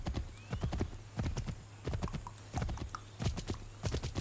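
Video game horse hooves clip-clop in a steady walking rhythm, close and clear, with a faint whinny-like cry in the background, in Assassin's Creed 3.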